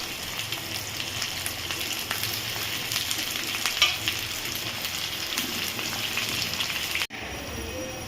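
Continuous loud sizzling of onions frying in a pan with whole spices and garlic, with occasional stirring scrapes, close by, then a brief cut near the end.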